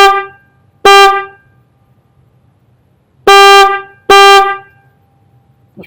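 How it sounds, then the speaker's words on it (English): Stock horn on a Harley-Davidson motorcycle: four loud, close honks, one short blast, a pause, then two more in quick succession, over a faint idle hum. "this is going to be an example of what the stock horn sounds like."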